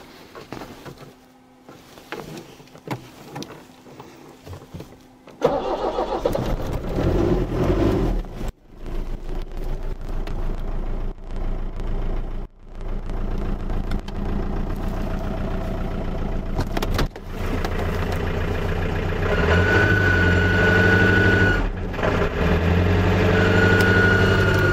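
Iveco engine turning over and then running with a heat gun blowing into the intake, a steady loud mechanical drone with a thin high whine, briefly cut by a couple of dips, heard alone.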